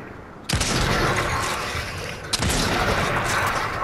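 Two loud, close shotgun blasts in Fortnite, the first near the start and the second a couple of seconds later, each a sharp boom over steady game noise.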